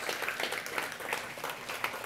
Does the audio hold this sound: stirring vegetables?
no